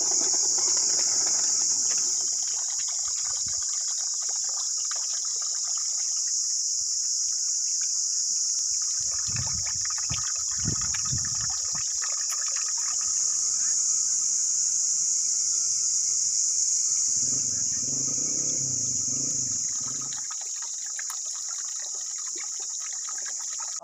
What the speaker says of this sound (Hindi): आब शफ़ा यहाँ एक पानी है, पहाड़ी से निकलता है